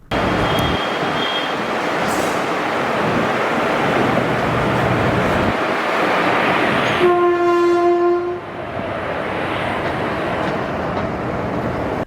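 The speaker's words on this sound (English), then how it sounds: "The train journey through Kottayam's twin tunnels, which are reminiscent of the dark and interesting sites of more than 60 years, will soon be forgotten." A train runs through the Kottayam twin tunnels with a loud, sustained rumble and clatter of wagons, then a long, strong horn blast sounds near the end before the noise eases slightly.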